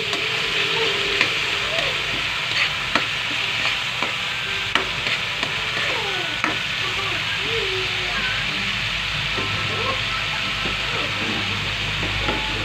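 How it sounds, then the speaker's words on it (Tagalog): Tomato, onion and garlic sauté in a pan with a continuous loud sizzle, punctuated by sharp clinks and scrapes of stirring, with faint voices in the background. "ginisa ko na yung kamatis, sibuyas, bawang"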